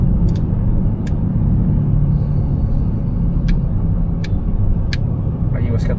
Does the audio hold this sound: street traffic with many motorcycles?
yes